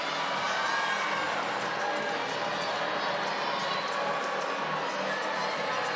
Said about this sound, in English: If you can hear the booing, it's a 9-9. The fans are not happy.